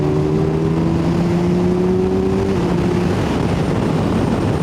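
A Kawasaki Ninja 1000SX with an Akrapovic exhaust cruises on a highway near 70 mph at about 5,000 RPM, its engine humming loud and steady under heavy wind rush.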